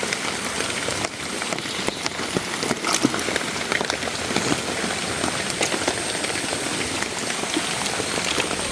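Heavy rain pours steadily onto a paved road during a rainy-day outing, a dense, continuous hiss with scattered close drop hits and no talking.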